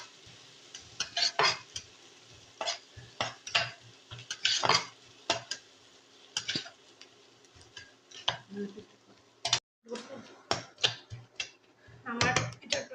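Papaya dal being tempered with dried chili and onion in a pan: irregular clatters and scrapes of a spoon stirring against cookware, with faint sizzling between them, while someone talks.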